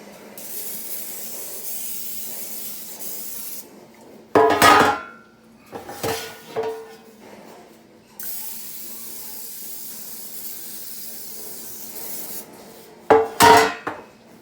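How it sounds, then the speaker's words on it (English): Two short hissing bursts of cooking spray onto bread pans, close by, each a second or so long, with faint clinking of pans and background hiss between them. "I'm gonna spray 2 bread pans."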